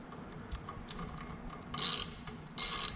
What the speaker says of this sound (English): You're going to tighten these bolts down.